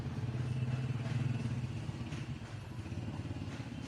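The 2C diesel engine of a 1992 Suzuki Potohar 4x4 idles close by with a steady low chugging rumble and light mechanical clatter, fairly quiet.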